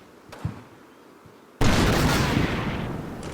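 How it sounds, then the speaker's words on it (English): A tank pops smoke launchers in Combat Mission, a few faint thumps followed by a sudden loud, sustained hissing whoosh that slowly fades. "This tank continues to pop smoke"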